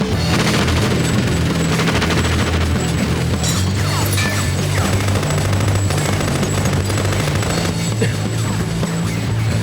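Dense bursts of gunfire and booming blasts crackle continuously through a loud Tekken 4 video game cutscene, with rapid automatic shots and explosions layered over a rumbling, chaotic battle backdrop.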